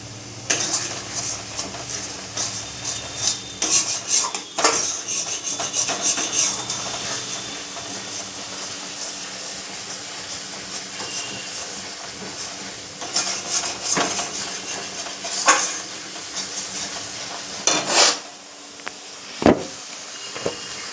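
Spice masala of garlic paste, salt, turmeric and chili powder is stirred in a pan for a potato and pointed gourd curry, with repeated metal utensil clanks and scrapes over a low background hiss.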